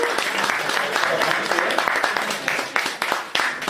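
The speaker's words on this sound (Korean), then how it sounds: "경례의 박수 해주십시오" A church congregation applauds during a Sunday service, a dense wash of clapping with scattered sharper claps and some voices mixed in underneath.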